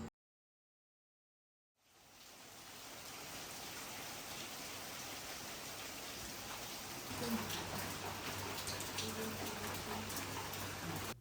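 Steady rain falls on a wet morning, a dense, even hiss of drops on surfaces that starts after a brief silence and holds at moderate level throughout, with a low hum joining near the end.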